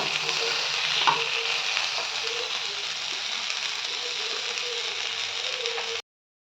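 Lemon fish sizzles steadily as it fries on a tawa over a low flame, a dense continuous crackle with a few faint clinks, running unbroken for about six seconds before cutting off abruptly.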